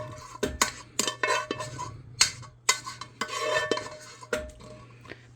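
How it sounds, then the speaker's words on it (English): Beef stroganoff macaroni mixture is dumped and scraped into a greased pan: repeated close metal-on-metal clanks and spoon scrapes come in bursts, with a low steady hum beneath. "you're going to grease a pan and dump your mixture in your pan"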